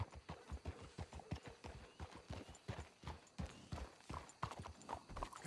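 Horse hooves clip-clop in the Red Dead Redemption 2 video game, a quick steady rhythm of soft thuds repeating at a walking trot, fairly faint and alone.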